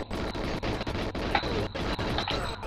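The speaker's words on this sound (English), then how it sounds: "now I've run out of pistol ammo, so I have to use AK or whatever it's called" A rapid burst of automatic AK rifle fire in the GoldenEye video game, with roughly ten evenly spaced cracks in under three seconds, loud and continuous.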